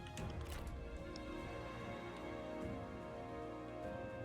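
Rain falls across a Total War: Three Kingdoms battlefield, a steady soft hiss of drops with faint scattered clicks, continuous and even at low volume throughout.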